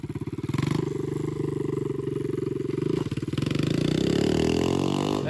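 A 125cc motorcycle engine revs hard under throttle, a close, loud, buzzing drone that holds steady and then climbs in pitch toward the end.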